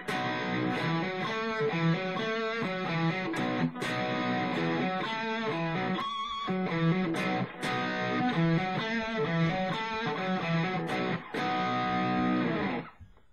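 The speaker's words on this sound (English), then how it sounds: "this is the distortion pedal in front of the Valve Junior" Heavily distorted electric guitar on the bridge pickup, through a distortion pedal into a Valve Junior tube amp, playing chunky, rhythmic chords with short breaks between phrases and a gritty, saturated tone.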